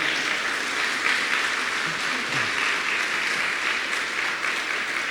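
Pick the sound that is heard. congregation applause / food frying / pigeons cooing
congregation applause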